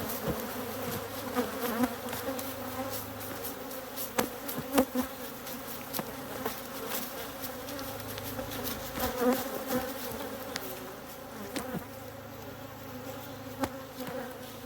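Honey bees swarm and buzz around a hive during a honey harvest, a dense, steady hum close by with sharp individual buzzes passing near, and no talk.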